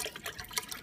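Broth emptied from a carton into a soup pot for lentil vegetable soup, a brief close splashing, gurgling pour with small uneven surges and no talking.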